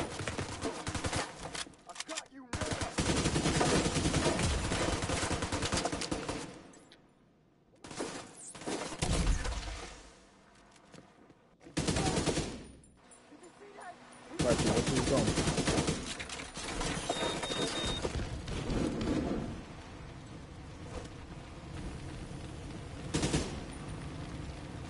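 Gunfire in The Division 2, from a gun firing at a high rate: long bursts of rapid automatic fire broken by short silences, with a voice heard now and then between the volleys.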